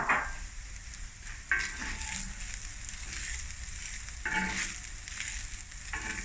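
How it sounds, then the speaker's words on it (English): Mushroom fried rice sizzles in a hot pan while a utensil stirs and scrapes through it in several bursts, with a constant frying hiss underneath, close by. "And give it a nice stir."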